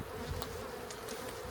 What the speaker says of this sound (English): you could hear all the bees buzzing